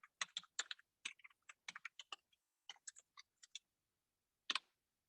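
Typing on a computer keyboard, with close, quick bursts of key clicks in uneven runs, a pause, then one last key press, in a quiet room.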